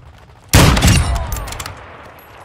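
Heavy gunfire bursts out suddenly in a Modern Warfare II multiplayer match on the Lockdown map, a loud sustained volley of shots with a booming onset that tails off into scattered fire over about two seconds.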